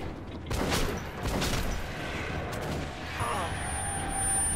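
Shotgun blasts and gunfire in the video game Metro 2033 Redux, several loud booming reports with echoing tails in quick succession, followed by a thinner electronic whine.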